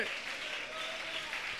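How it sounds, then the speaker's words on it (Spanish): A church congregation applauds during a Spanish-language worship service, with continuous clapping mixed with voices and a steady tone that may be music. "Yo quiero que alguien le dé un aplauso al santo de los santos que está aquí en esta mañana."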